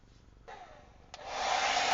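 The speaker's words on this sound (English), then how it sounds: "This is the first time I'm using a hair dryer to dry, and it seems to be working." A hair dryer switches on near the microphone to dry tattoo cover makeup backstage, rising into a loud, steady, close whirring rush that holds to the end.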